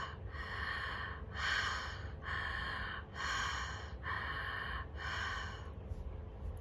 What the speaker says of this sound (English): So shamanic breathing looks something like this.